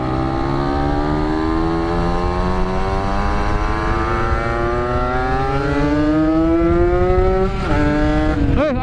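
Kawasaki Ninja motorcycle engine revving hard and climbing steadily in pitch as the bike accelerates on a rough road, loud and close, with a brief shift dip near the end and no talk.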